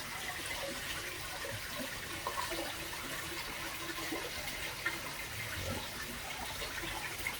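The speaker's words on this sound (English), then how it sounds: "it's raining" Rain falls steadily on a pond on a rainy day in Vietnam, a constant hissing patter with faint scattered drips, moderately quiet and uninterrupted, with no voices.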